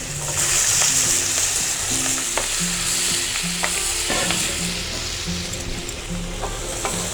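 Spices, onions and garlic frying in oil in a pan for a vegetable korma, giving a loud, continuous close sizzle with a few light stirring knocks and no voices.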